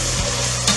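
Ginger garlic paste and onions sizzle and fry in a pan with a spoon stirring through them, a close, continuous crackling hiss broken by a brief scrape or two.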